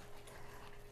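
A dog eating snacks and drinking water nearby, with soft wet chewing and lapping sounds over a steady low background hum.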